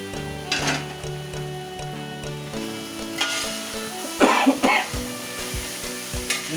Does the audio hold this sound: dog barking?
no